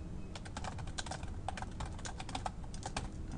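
Computer keyboard keys clatter in quick, uneven bursts as someone types Python code, a soft, close patter with no voices.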